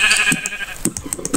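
A Minecraft sheep bleats in the video game, a short wavering bleat followed by a quick run of clicky hit and step sounds, close and fairly loud with no talking.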